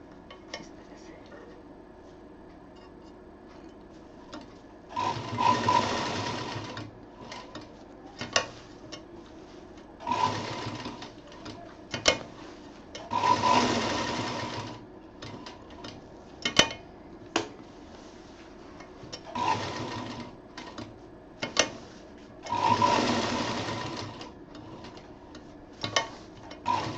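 Sewing machine stitching velcro onto a homemade picnic bag, in three or four short bursts of a few seconds each, separated by quieter pauses with faint handling clicks.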